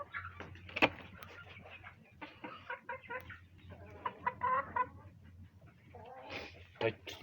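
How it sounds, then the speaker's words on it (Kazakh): Farmyard chickens and young chicks cluck and peep in irregular bursts, some close and sharp, others softer, while a person talks intermittently over them. "Тауық, балапан."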